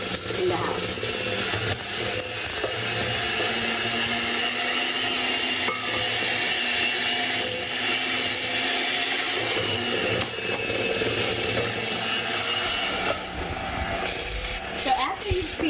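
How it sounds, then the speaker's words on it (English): A KitchenAid stand mixer creams butter and sugar for matcha cookies, its motor whirring steadily with rattling, scraping beater noise throughout, close and loud. "you can use your KitchenAid or any other machine that you have in the house"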